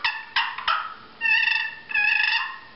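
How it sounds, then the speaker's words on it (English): A walnut and red oak turkey box call makes a few sharp, scratchy clucks followed by two longer rolling purrs, close up and without voices. "Cluck and purr."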